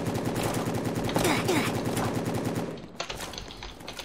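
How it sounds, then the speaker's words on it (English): Rapid automatic gunfire from the Roblox game Prison Life, loud dense bursts crackling continuously for nearly three seconds before thinning into sparser, slightly quieter shots. "I'm getting shot at!"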